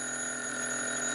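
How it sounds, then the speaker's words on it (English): A telephone bell rings as one continuous steady trill, fairly faint and without voices. "Then the phone rang, and I found out."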